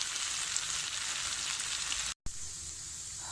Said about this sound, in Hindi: ये देखिए सिर्फ मज़ीद मैंने इसको 2 मिनट मीडियम फ्लेम पे इनको भूना है आलू को।